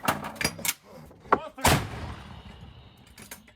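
Several heavy booming blasts of artillery fire near Bakhmut, one after another, with a sharp crack and a long rumbling tail, and some voices in the background.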